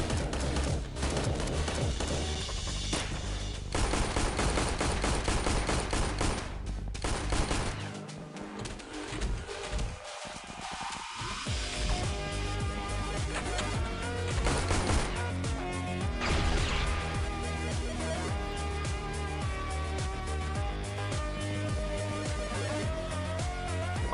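A grenade blast and bursts of gunfire in the XPiratez strategy game, a cluster of sharp crashing impacts with a sweeping effect midway, all layered over loud, continuous in-game music.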